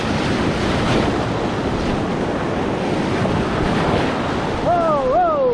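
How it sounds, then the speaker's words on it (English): Large standing waves on Petawawa River rapids roar as a steady, loud broadband rush of churning whitewater with wind buffeting the microphone throughout. "Big standing waves."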